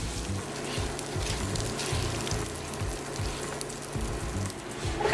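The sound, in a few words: stirring onions, celery and garlic into rice in a pan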